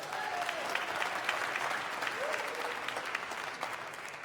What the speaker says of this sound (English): Give yourselves a hand, please.